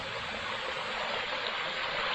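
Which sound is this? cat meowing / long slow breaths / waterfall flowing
waterfall flowing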